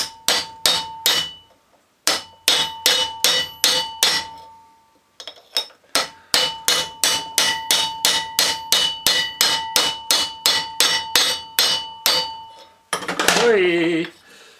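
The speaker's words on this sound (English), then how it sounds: "so I'm going to try hammering it on." A hammer strikes metal repeatedly while driving a bearing onto a Ford Transit alternator, producing loud, close, ringing clanks in fast rhythmic bursts separated by short pauses, followed at the end by a brief spoken exclamation.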